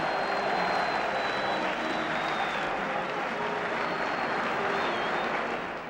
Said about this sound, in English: there's the crowd as they go out onto the pitch